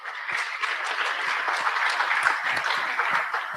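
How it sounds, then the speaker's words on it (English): Summit audience applauding after a presentation, dense steady clapping from many hands filling the hall throughout. "A round of applause."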